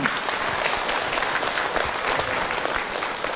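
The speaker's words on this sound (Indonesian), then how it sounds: "tepuk tangan untuk Ahilman" A seated audience at an Indonesian Islamic religious talk breaks into steady, dense clapping, loud and even throughout without any voices over it.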